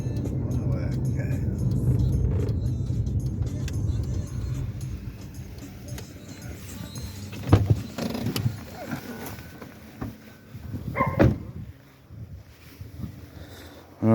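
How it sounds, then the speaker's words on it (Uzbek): Cars pass along a road where staff stand at a checkpoint, a steady close traffic rumble with a few louder whooshing passes, while people talk over it. "Bemalol o'tib ketyapti mashinalar lekin."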